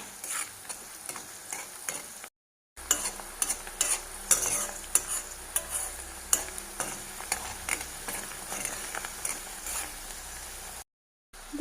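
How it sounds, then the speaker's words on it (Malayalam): Curry leaves and chilies sauté in a pan as the base for a fish pickle, giving a steady sizzle with repeated scraping stirs of a spoon throughout, close and moderately loud, with two brief dropouts. "അപ്പോൾ ഇത് നന്നായിട്ടൊന്ന് വഴണ്ട് വരട്ടെ പൊരിഞ്ഞ് വരുവൊന്നും വേണ്ട നന്നായിട്ട് വഴണ്ടാൽ മതി"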